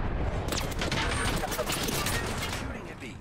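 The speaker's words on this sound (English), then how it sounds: "Shooting at me." Rapid video game gunfire rattles for about three seconds, dense overlapping shots at steady loudness with voices mixed in.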